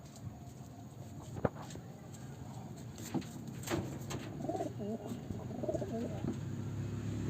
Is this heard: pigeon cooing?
yes